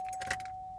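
Car key jangling in the ignition of a 2014 GMC Acadia that won't start: a brief, close metallic jingle lasting under a second over a steady faint tone.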